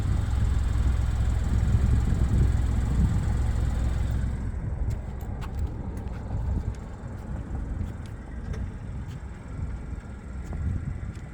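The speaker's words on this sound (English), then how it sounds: "There's your exhaust." A 2024 Chevrolet Trax LT idling, its exhaust giving a steady, loud low rumble that lasts throughout, with a broadband hiss that drops off about a third of the way in.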